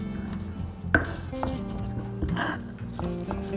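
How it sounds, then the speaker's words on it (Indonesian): Garlic, fried shallots and shrimp paste are ground together into sambal, producing faint, irregular scraping and knocking. A few sharper taps come through quiet kitchen background, with no talk. "Sekarang kita akan haluskan ya bawang putihnya."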